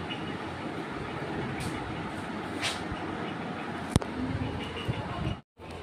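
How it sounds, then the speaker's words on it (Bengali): A train pulls into a railway station: a steady, loud rumble of wheels and carriages close by, with one sharp metallic clank midway and an abrupt cutoff near the end. "বন্ধুরা, ট্রেন ঢুকে গেছে, আমরা স্টেশনে চলে আসছি, ট্রেন ঢুকে গেছে"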